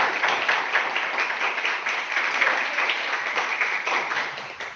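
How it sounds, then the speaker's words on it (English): Sustained audience applause at a medical ultrasound workshop, a dense even wash of many hands clapping at steady loudness for several seconds with no talk over it. "I will request everyone to please give a big hand of applause to Dr. Ashraf Suratia and to Dr. Syed Ali"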